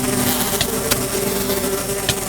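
Dense, continuous insect-like buzzing of many angry bees in Minecraft, steady and loud throughout, with a few sharp clicks cutting through.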